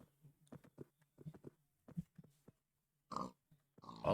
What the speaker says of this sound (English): I was lucky enough to spawn with some pigs